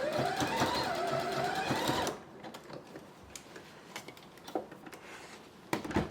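An overlock sewing machine, an Ultralock, runs a safety seam along the very edge of fabric, a loud steady mechanical whir for about two seconds that stops abruptly, leaving quiet room noise with faint clicks and handling sounds.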